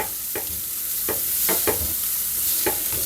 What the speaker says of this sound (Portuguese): Vou aqui colocar a manteiga. Só derreter aqui a manteiga.